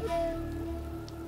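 A short burst of soft pattering rain spell effect in Divinity: Original Sin 2, with a steady low hum and tonal drone beneath, no voices.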